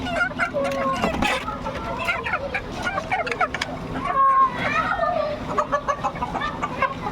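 Native chickens kept in a small rooftop coop, including a farm hen with a chick, cluck and call repeatedly close by, with a person talking intermittently over them.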